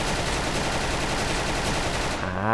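Dense, continuous automatic fire from an FN FAL rifle in the online shooter Special Force, a loud unbroken roar of rapid shots filling the clip and cutting off near the end.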